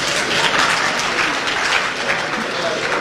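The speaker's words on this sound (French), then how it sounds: "Applaudissez." Audience applause at a ministerial address to event organisers, a dense steady wash of many hands clapping throughout, loud and close, with no pauses.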